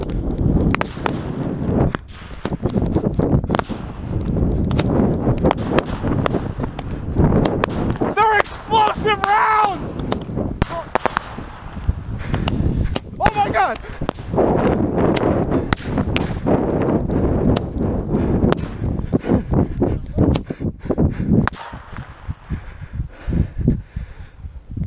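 Roman candle fireworks firing explosive rounds outdoors, a rapid string of sharp pops and bangs with crackling bursts and brief whistling, loud and close, with people shouting and talking throughout.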